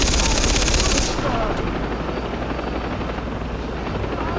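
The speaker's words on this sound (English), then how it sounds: "That is one strong chopper." Helicopter rotor chopping in the video game Far Cry 3, loud and close with a dense pulsing drone; a burst of gunfire rattles over it at the start before the rotor thrum continues alone.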